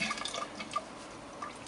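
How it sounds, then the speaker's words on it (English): Sump pump in a basement pit briefly kicks on, giving a few light drips and small splashes of water, faint and intermittent, with no voices. "the water comes up and then it turns on and splashes a little bit of water up the hose"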